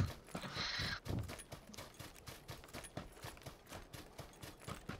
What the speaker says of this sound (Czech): fakt koně